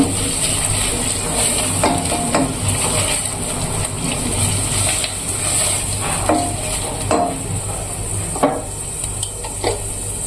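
An egg is added to a hot pan and fries with a continuous sizzle, while a utensil stirs and scrapes against the pan in irregular clinks throughout.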